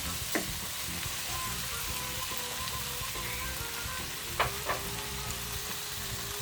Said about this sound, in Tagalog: ilagay na natin ngayon ang pork ginili